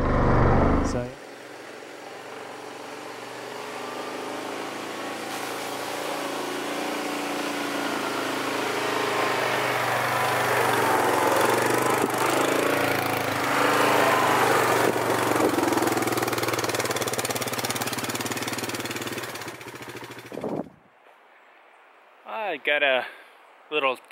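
Engine of a Can-Am Commander side-by-side, a couple of years old with almost 13,000 km on it, running steadily for about twenty seconds with a low droning hum and mild knock, then cutting off before brief sounds at the end.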